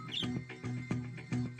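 Birds chirping in a riddle animation, a quick, bright tweet near the start and then a run of short, even, repeating animated chirps, close and clear, with no speech.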